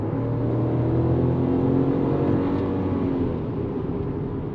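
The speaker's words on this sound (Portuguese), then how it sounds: "Vou dar pé no fundo para ver e escutar um pouquinho do ronco do motor" A Chevrolet Tracker Premier 1.2 turbo with automatic transmission, running on gasoline, revved at full throttle: a loud, continuous engine drone that holds steady for several seconds, with no voices.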